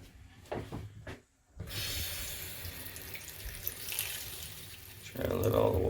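Water runs from a bathroom faucet into the sink to drain the pipes and release pressure, a steady rushing stream that starts after a couple of clicks and a short pause and grows louder near the end.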